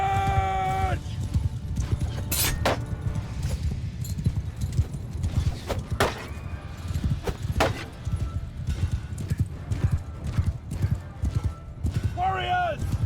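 Cavalry horses in the Mount & Blade 2: Bannerlord video game thunder along in a dense, continuous clatter of hooves, loud and close, with neighs and whinnies rising above it now and then and a voice speaking over the scene.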